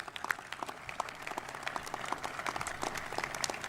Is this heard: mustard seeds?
no